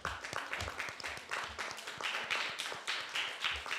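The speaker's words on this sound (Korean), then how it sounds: "다들 일어나서 큰 박수를 맞이해 주시기 바랍니다" Standing audience applause welcoming a professor to a lecture, with dense rhythmic clapping from a crowd, moderately loud and continuous throughout.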